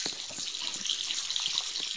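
Steady hiss of shower water spraying in a Roblox mansion bathroom, a constant bright rush with faint soft knocks underneath and no voices.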